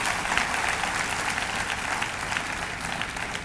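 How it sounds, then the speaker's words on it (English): Participants at an international yoga festival receive a warm round of applause, steady dense clapping from a large crowd continuing evenly throughout, moderately loud. "So really a great round of applause should go to all the participants."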